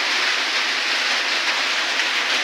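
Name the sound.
rain falling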